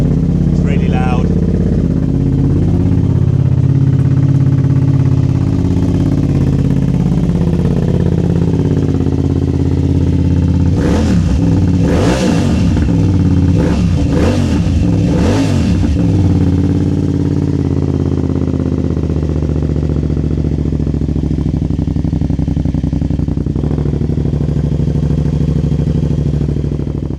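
A motorcycle fitted with a Dominator exhaust, played back as a recording, runs loud and steady with a burst of sharp revs in the middle; a voice talks over it throughout.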